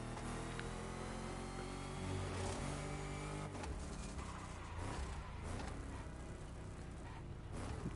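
Engine of a Dodge Charger Hellcat in The Crew Motorfest racing game, a steady loud growling drone with rising revs that holds throughout with no talk.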